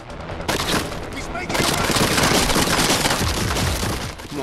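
Dense bursts of automatic gunfire and heavy shots in the stealth shooter Splinter Cell Blacklist, loud and close, rattling almost continuously with booming impacts, while a voice speaks over the shooting.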